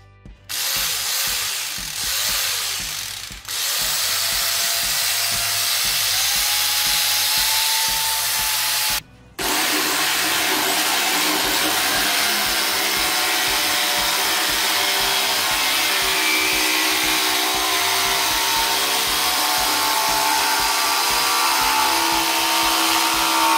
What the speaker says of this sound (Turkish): Döküpaş testere özellikle ahşap işlerinde daha çok kavisli kesimleri yapmak için kullanılır.